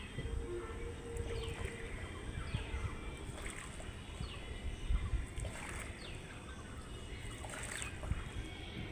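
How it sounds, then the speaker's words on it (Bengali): Small boat moving across a village fish pond, with soft water sloshing and trickling against the hull, faint bird calls and light rustling in a quiet outdoor setting. "এই যে নৌকা চলছে এখন।"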